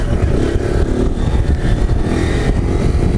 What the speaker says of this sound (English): I'm doing some wheelie practice